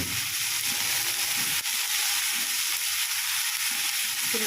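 Garlic and ginger paste frying with tomato in a pan for a spicy lote fish curry, a dense, continuous hiss of sizzling oil with faint stirring underneath.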